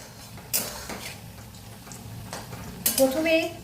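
Paneer kofta mixture is stirred and mixed by hand in a bowl, soft scraping and a few sharp clinks against the dish over a quiet background.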